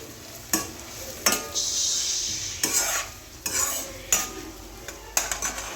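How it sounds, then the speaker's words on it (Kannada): A utensil scrapes and clinks around a cooking pan as chilies and spices are stirred, giving repeated close strokes over a soft frying sizzle. "ಇವಾಗ ಒಂದ್ಸರಿ ನೀಟಾಗಿ ತಿರ್ಸ್ಕೊಡೋಣ"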